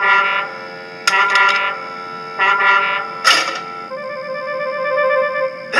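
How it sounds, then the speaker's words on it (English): A railway foghorn sounds loud, steady horn-like blasts with a rich harmonic tone, sounding in several bursts then holding a long sustained note. "It's a new invention, a railway foghorn, said Sir Topham Hatt."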